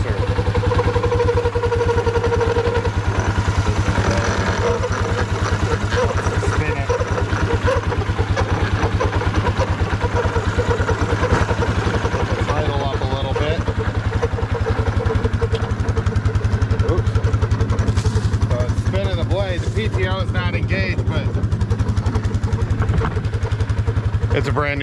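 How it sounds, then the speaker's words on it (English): An engine on homestead equipment idles steadily with a brand new belt fitted, a continuous low rumble with faint clatter running throughout at close range, while a person talks over it at times. "I can tell already this thing is idling much nicer"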